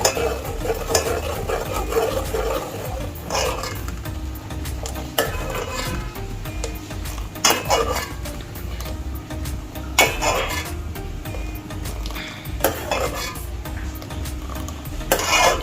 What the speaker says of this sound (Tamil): இது மாதிரி ஃபுல்லாக கிண்டிட்டு அழகாக நெய் வந்து பிரிஞ்சு வரும்